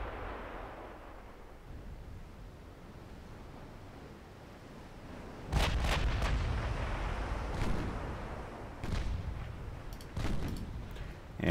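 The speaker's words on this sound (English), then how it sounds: "One more salvo and then turn, please." A battleship's main guns firing salvos in a naval warfare game: after a low rumbling ocean ambience, heavy booming blasts erupt in sudden bursts, each followed by a long thundering rumble, with further salvos near the end.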